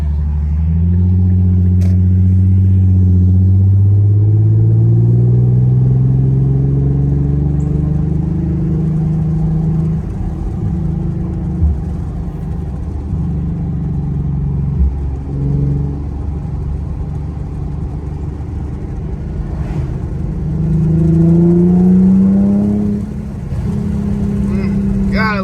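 Infiniti Q50 car engine revving up and down in steady low rumbling swells that rise in pitch, loud and close throughout, with brief quieter dips between revs.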